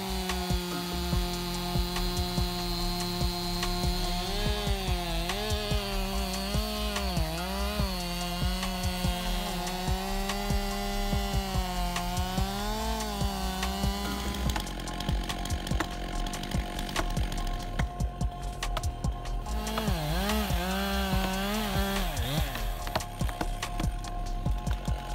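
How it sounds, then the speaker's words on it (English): A chainsaw cuts through giant tree trunks with a loud, steady engine drone whose pitch dips and wavers under load, easing off around the middle before biting in again near the end. "This chainsaw was a marvel of engineering, defying all expectations by effortlessly cutting through giant tree trunks at unprecedented speeds"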